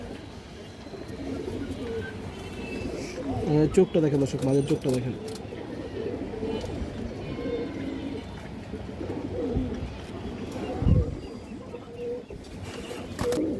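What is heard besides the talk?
pigeons cooing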